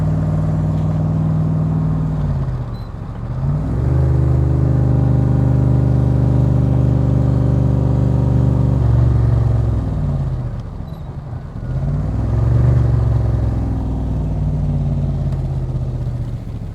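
A 1965 Shelby Cobra Backdraft engine drives up close, loud and rumbling, revving through gear changes with rising and falling pitch, easing off around the middle before pulling hard again, with no talk.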